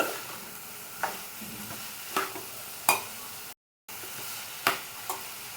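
Bitter gourd pieces frying in oil in a pan, a continuous close sizzle with occasional sharp clicks and scrapes of stirring, with one brief dropout.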